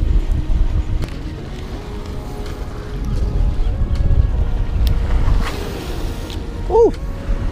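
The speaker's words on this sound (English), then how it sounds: "It's pretty damn windy" Steady strong wind roars and buffets the microphone throughout while fishing on San Diego Bay at Harbor Island, with low rumbling gusts swelling and fading and a brief whistle-like tone near the end.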